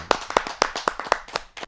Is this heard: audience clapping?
yes